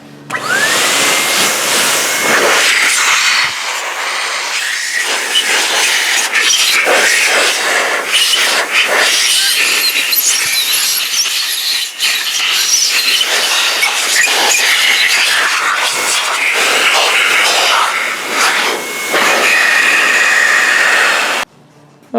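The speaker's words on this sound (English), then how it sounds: "super air blaster that has heat in it" A small heated air blaster blows warm air across a motorcycle case, a loud, continuous rushing whoosh with occasional flutters and brief dips, cutting off at the end.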